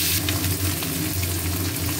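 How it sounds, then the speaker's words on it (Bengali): Fish heads frying in a pan of oil with five-spice seeds, a close, dense crackling sizzle that never lets up over a brief moment. "মাছের মুড়োগুলো ভাজবো"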